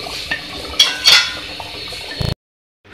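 Chopped coriander mixed into chicken handi in a pot, with soft wet stirring and scraping and a few brighter clinks of a spoon against the pot, close and clear, ending abruptly in silence.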